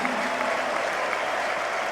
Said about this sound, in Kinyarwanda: Mureke tumukomere amashyi, tumushimire.